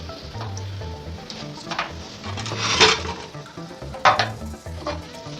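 Butter-scrambled free-range eggs scraped from a pan onto a plate: soft stirring scrapes and light sizzling, with a few brighter clinks of utensil against cookware, close and fairly quiet.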